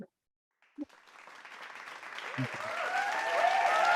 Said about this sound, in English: let's give a big round of applause for everybody here